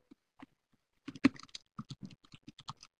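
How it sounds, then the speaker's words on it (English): Several attendees on a call type on computer keyboards, sparse key clicks at first, then a quicker run of faint, close tapping with no talk. "multiple attendees are now typing"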